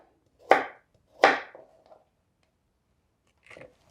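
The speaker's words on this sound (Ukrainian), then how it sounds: "овочі просто ріжу крупними шматками" Two sharp knife chops through vegetables on a board close together, then a pause and a softer third cut, close by and crisp.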